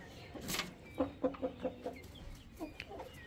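Hens cluck in a quick run of short, rhythmic calls close by, with a rooster among them and a brief rustle at the start, over a quiet farmyard background.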